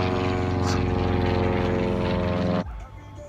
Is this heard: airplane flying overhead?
yes